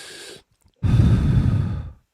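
A person breathes deeply through the mouth, one breath trailing off before a short pause, then a long, loud, rough exhalation of nearly a second and a half, close and without talk.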